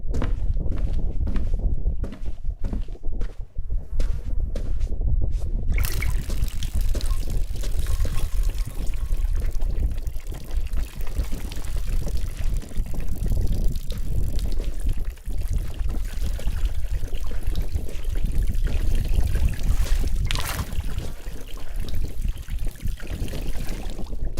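Water poured from a watering can onto houseplants in an apartment, a steady trickling stream running almost continuously at close range with faint shuffling movement, no talk.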